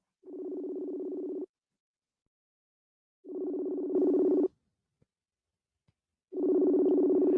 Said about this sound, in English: it's a Facebook call, so it'll ring and ring and ring